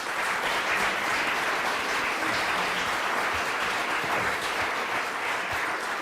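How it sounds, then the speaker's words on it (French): Sustained applause from the audience at a graduation diploma ceremony at EPP Lyon, honoring the teachers; steady, dense clapping throughout with no break. "Là aussi, on peut les applaudir."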